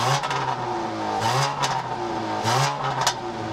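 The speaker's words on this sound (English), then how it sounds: "integrated dual exhaust that barks quite a bit when you rev the engine" A 2013 Dodge Dart GT engine with integrated dual exhaust revs repeatedly, several rising blips with barking exhaust tone, close and loud with no talking.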